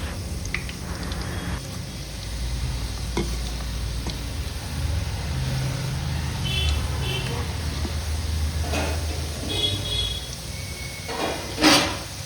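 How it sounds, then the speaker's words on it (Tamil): Potato finger chips frying in hot oil at home, a steady, broad sizzle and bubbling that runs continuously under occasional faint clinks and background noise. "பாருங்க, நல்லா ஃப்ரை ஆயிடுச்சு."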